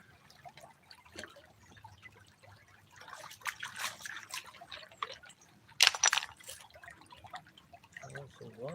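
Water trickling and splashing as mud is rinsed off blocks during outdoor pan bentizing, irregular drips and spatters with a louder burst midway, while someone talks intermittently.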